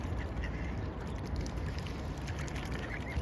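Rescued ducks, among them a mandarin duck, recovering after an oil spill, with soft quacking mixed into steady background noise and water sounds, no speech.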